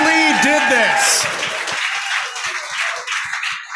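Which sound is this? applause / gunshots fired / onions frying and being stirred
applause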